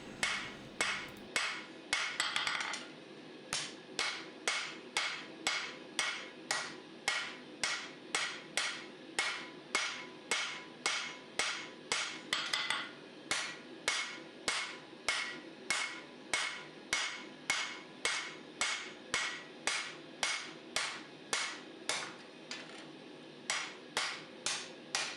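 A hammer forges a fullered dagger blade, steady rhythmic metallic blows ringing out one after another, close and loud, dozens of evenly spaced strikes with short pauses between them.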